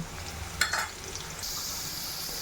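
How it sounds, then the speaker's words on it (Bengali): Peas are tipped into potatoes frying in a pan for masala ghugni, making a short clatter of the peas landing, then a steady, close sizzle that keeps running, with no talk. "এবারে আমি আলুর মধ্যেই মটরটাও দিয়ে দেব"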